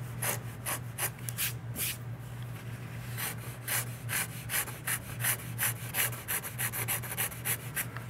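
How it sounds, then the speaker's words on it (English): A thin hand scraper with a small burr shaves the wooden top of an archtop guitar in a rapid series of crisp, rasping strokes, close and steady, with no talk. "So that's a thin scraper with a fairly small burr."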